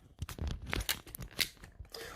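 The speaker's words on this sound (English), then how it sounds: "That was the crunch test." Crunching on a Space Raiders crisp snack, a close, loud burst of brittle cracks and crinkles over about two seconds, with no talking.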